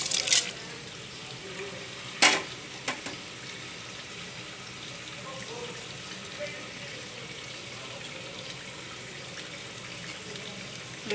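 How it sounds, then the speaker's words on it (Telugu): Basmati rice is tipped into a pot of boiling water. A couple of brief splashing rattles are followed by a steady, even bubbling hiss at close range. "పెట్టుకున్న బాస్మతి రైస్ ఇందులో వేసేసుకోవాలి మనం ఈ వాటర్లో"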